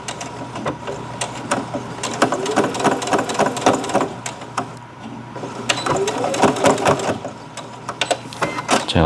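A sewing machine stitches fabric for a shopping bag in rapid, continuous mechanical bursts, loud and close, with a brief pause midway before the stitching resumes.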